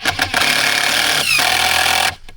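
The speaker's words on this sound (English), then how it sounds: "That would be my drill." A power drill driving into the end grain of wood, one loud continuous whir lasting about two seconds with a brief pitch change midway, then cutting off abruptly.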